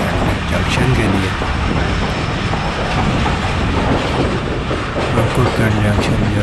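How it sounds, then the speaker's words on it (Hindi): The Pakistan Express, running from Multan to Rawalpindi, slows on its approach to Shorkot Junction with a loud, continuous, close rumble and rattling wheel and carriage noise. "ट्रेन ने एक दफ़ा फिर स्पीड कम कर दी है और अप्रोच बना रही है शोरकोट जंक्शन के लिए।"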